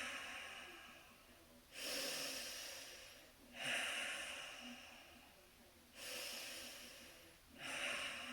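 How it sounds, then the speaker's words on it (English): Deep, long breaths taken slowly in a calming exercise, four airy inhale-exhale swells in a steady rhythm, close to the microphone and soft, with no talking. "you can just take 3 deep, long breaths"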